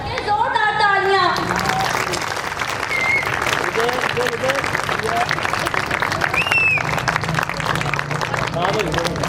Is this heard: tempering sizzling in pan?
no